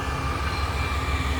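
An FECR freight train locomotive rumbles steadily nearby, its deep low engine throb and broad rail noise holding an even loudness throughout with no talk.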